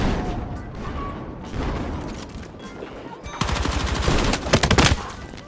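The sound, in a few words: shotgun firing slugs in a video game (Call of Duty)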